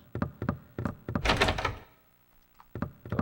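Someone in the Silent Hill 4 video game tries a locked door, giving several quick hollow thunks and rattles, a short louder burst of handle-jiggling noise, a pause, then more knocking thuds.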